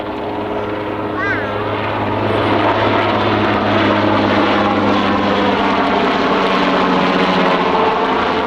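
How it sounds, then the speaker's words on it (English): Westland Wessex HC Mark II helicopter at the 1995 Fairford airshow, a loud steady rotor and engine roar that swells slightly and holds throughout. "the Wessex HC Mark II"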